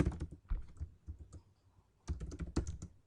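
Quick bursts of keystrokes come from someone typing code on a computer keyboard, sounding quiet and close. Two clusters of rapid clicks are separated by a short lull.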